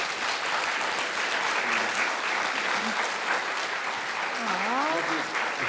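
Audience applause for Apryl Day at a justice talk on settler law, steady dense clapping sustained throughout at moderate level, with a few voices talking briefly over it near the end.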